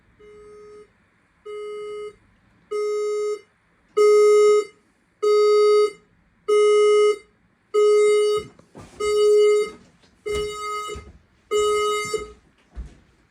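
A smoke detector in a building fire alarm system sounding during a test: a loud, steady, repeating electronic beep in regular pulses of about a second each, with faint background noise and handling between pulses.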